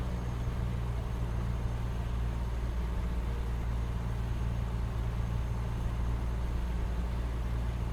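A truck engine in American Truck Simulator idles low and steady while reversing a trailer, a continuous deep rumble held at an even level throughout, with no talk.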